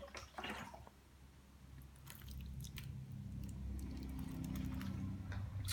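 Water is poured onto soil in cardboard-roll seed pots, giving a soft, close trickle and moist squishing that builds gradually and continues steadily over a quiet background.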